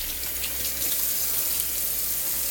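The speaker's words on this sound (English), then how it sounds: "Wash up my hands before I dry them on the kitchen towel." Water from a kitchen tap runs steadily as hands are washed under it, a soft, even splashing hiss that carries on without pause and with no voices.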